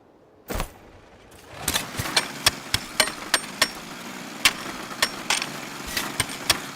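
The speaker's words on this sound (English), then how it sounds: "I want to use a jackhammer." Sharp repeated metallic impacts of a jackhammer breaking ore in a video game, a dozen or so loud percussive hits at an uneven rhythm over a low rumble, with one isolated knock first.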